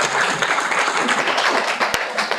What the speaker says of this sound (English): So let's give another round of applause to ESOFT.